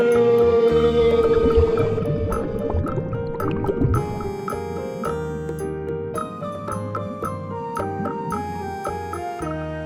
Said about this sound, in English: That's whale. One of the largest animal on Earth. And they love to sing.